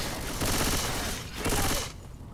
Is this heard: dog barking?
no